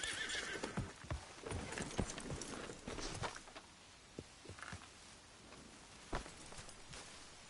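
Horse hooves clip-clopping and a horse neighing in Red Dead Redemption 2, close and fairly loud, with irregular hoof beats and a few sharp knocks in a game soundscape.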